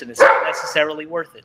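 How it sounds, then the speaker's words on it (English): A pet dog named Lucy barks a few quick yips close by, overlapping steady talk from a person speaking at home. "Sorry, that's my dog."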